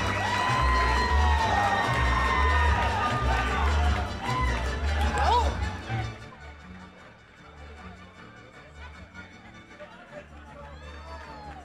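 A big crowd cheers loudly at a Ruben Villa boxing fight, a dense roar with whoops for the first several seconds that then drops away to quieter chatter and murmuring.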